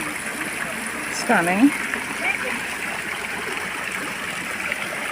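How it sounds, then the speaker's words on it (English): A small trickle of water runs steadily into a long stone trough beside a wall of ferns in an Italian villa garden, a faint continuous babble with a brief spoken word over it. "the little trickle of water going into the trough all the way along"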